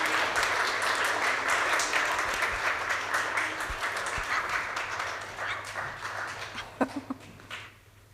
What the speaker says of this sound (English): Big round of applause to our kids for a time for all ages.